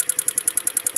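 Keeway CR152 motorcycle engine making an abnormal noise, a close, rapid and regular metallic ticking or knocking repeating about ten times a second over a low running engine.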